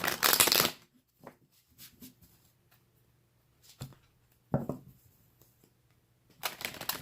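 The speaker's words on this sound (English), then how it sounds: "I'm going to shuffle twice." Tarot cards are shuffled in several quick riffling bursts, crisp and close, separated by short quiet pauses.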